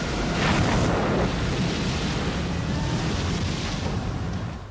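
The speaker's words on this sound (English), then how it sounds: "their ship is hit with what is known as a white squall" A violent white squall lashes a sailing ship at sea in the film White Squall, a dense, loud, continuous roar of wind and crashing water that fades slightly at the end.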